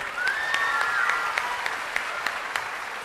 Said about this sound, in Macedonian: еден голем аплауз